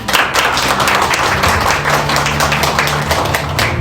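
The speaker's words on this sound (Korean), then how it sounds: "나오실 때 큰 박수 부탁드리도록 하겠습니다" An audience at a forum on voting rights for people with disabilities claps loudly for a lawmaker coming to the podium, a dense, steady round of applause with a faint low hum in the room.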